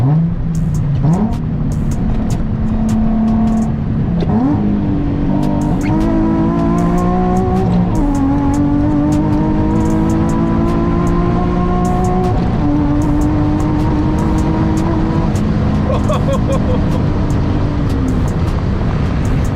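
A Nissan 350Z HR with a full single exit exhaust pulls hard through several gears in winter, the engine note climbing repeatedly with brief dips at each shift, loud and close from inside the cabin.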